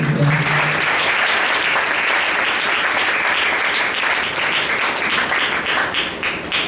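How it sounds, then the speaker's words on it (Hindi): Loud, dense applause from a church congregation at a Prathna Bhawan prayer hall in Jabalpur, sustained and steady for the whole stretch, with a brief voice at the very start. "परमेश्वर के लिए एक बार जोरदार ताली"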